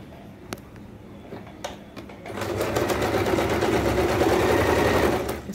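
Sewing machine stitching the twice-folded hem of a petticoat: a few faint ticks and clicks, then a loud, steady, fast running whir that continues for several seconds close by.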